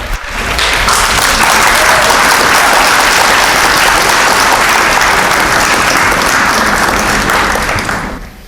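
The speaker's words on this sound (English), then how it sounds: "Applause echoes through the court." Steady applause from a crowd fills a royal court, swelling in quickly and holding loud and even for several seconds before fading out at the end.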